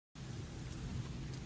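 Rain from a night thunderstorm falls outside at about 2 a.m., a steady, fairly faint hiss of drops that starts abruptly and continues evenly.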